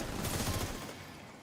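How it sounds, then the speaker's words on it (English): Rapid bursts of gunfire from a hostile sniper turret in a video game, a dense, loud volley that tapers off over about a second. "Hostile sniper turret detected."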